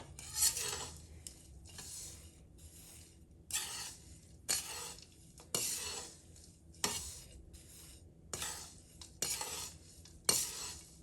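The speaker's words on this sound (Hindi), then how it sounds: "बस अब इसको अच्छी तरह से मिक्स करना है कि सब कुछ मिल जाए आपस में" Dry panjiri made with very little ghee, stirred and mixed with a ladle in a pot, giving repeated scraping, rasping strokes in an irregular rhythm, close and fairly loud, with quiet gaps between strokes and no talking.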